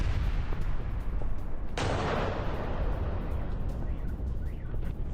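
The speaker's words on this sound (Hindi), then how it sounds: "सोची इंटरनेशनल एयरपोर्ट पर यह ड्रोन से हमला" A drone strike hits the fuel depot at Sochi International Airport, setting off a sudden loud, broad blast partway through that swells over a continuous rumbling roar and lingers as a dense crackling wash.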